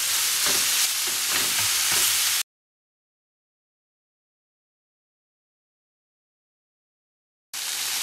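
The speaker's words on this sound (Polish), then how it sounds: "I to podsmażam i kiedy mięso ścięło się już od spodu, dokładnie mieszam, rozprowadzając yy, mąkę na patelni" Chicken pieces fry and sizzle in a pan over high heat while flour is stirred through, a loud, steady crackling hiss with scraping that cuts off abruptly and returns a few seconds later.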